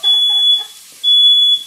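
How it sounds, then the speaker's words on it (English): A smoke alarm goes off while dinner is cooking in a home kitchen. Two long, piercing, very loud electronic beeps sound with a short gap between them, and no one speaks. "Fire alarm."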